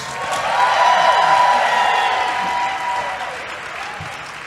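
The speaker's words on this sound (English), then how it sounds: "By a round of applause, who here in 2016 voted for crooked Hillary Clinton?" A crowd at a live comedy podcast taping in Los Angeles answers a show-of-applause poll with a brief swell of clapping and crowd noise that rises, holds, and then tapers off.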